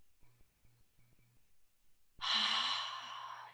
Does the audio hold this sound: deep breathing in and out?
yes